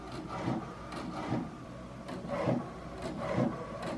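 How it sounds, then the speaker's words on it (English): A home printer feeds and prints on a single sheet of sticker paper, giving repeated rhythmic mechanical passes of rubbing and whirring at close range, with no talking. "I just put 1 piece of sticker paper in the printer."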